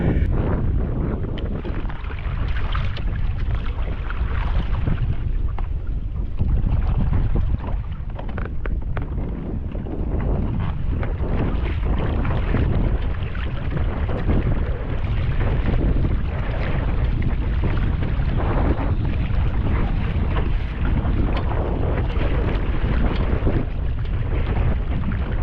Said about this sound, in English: if I stop paddling on the left hand side just for a second, how the kayak would swing right around.